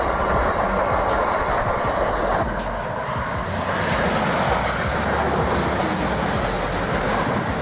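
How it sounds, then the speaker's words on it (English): Spain's AVE S102 high-speed train running at speed, a loud continuous roar of rushing air and rumbling wheels, close by and unbroken, with a brief dip partway through. "Another of Spain's high-speed trains, the AVE S102, travels at 310 km per hour, 193 miles per hour."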